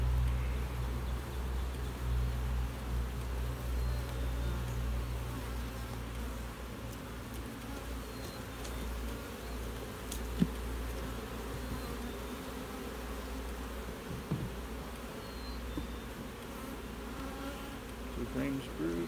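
Honeybees from overwintered nucs buzz as a steady, close swarm drone while the colonies are split, with faint handling knocks and a low background hum throughout.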